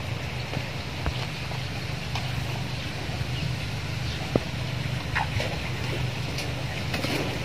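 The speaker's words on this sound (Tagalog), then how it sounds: "Lakas ng hangin." Strong outdoor wind blows steadily as a continuous broadband rush across the whole stretch, with faint scattered clicks and knocks and no speech.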